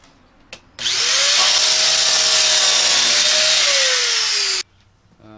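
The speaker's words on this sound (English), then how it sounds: "It's capable of making a plunge cut." A Rotorazer compact circular saw revs up and makes a plunge cut, a loud, steady whining buzz lasting about four seconds before stopping abruptly, with a brief click before it starts.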